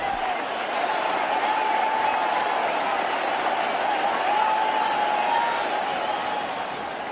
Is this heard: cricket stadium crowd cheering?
yes